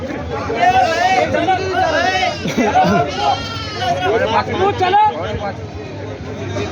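Goats bleat repeatedly, near and loud, at a large, muddy goat market in Parbhani, Maharashtra, under constant crowd chatter and people talking.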